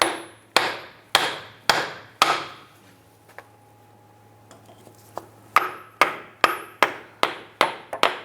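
A hammer strikes a block of wood held against a CV axle on a 2002-2008 Dodge Ram 1500 front hub, giving sharp, close, evenly spaced knocks in two bursts with a short quiet gap between.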